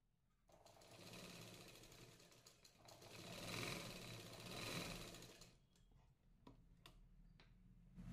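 A sewing machine stitches a katori blouse, its needle running in a fast rattling burst for several seconds before slowing to a few separate ticks and clicks, close and steady with no talking.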